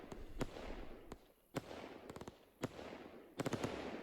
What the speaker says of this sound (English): very good sound for like a firecracker